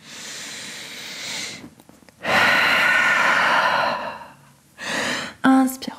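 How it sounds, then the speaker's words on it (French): Deep, slow breaths during a vinyasa yoga practice, loud and close: long airy exhalations and inhalations in drawn-out waves, with a short breathy puff near the end. "Grande respiration ici."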